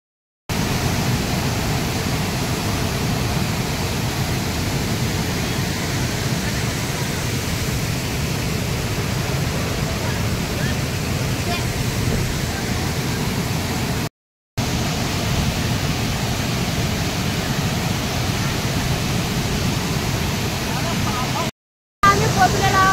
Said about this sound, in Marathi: कुडेलांच्या धबधब्यावर म्हणजे कुडेलांच्या वॉटरफॉलवर तर तुम्ही बघू शकता कसा आहे तो